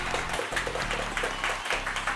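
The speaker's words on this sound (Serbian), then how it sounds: "Jedan veliki aplauz za Veljka" Children and adults clap for the winner of a quiz, a steady dense patter of hands, close and even, with a short dip midway.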